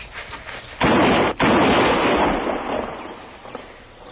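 A loud gunshot sound effect in a Western radio drama: a sharp blast cut by a brief gap, then a second blast that slowly decays into a rumbling tail.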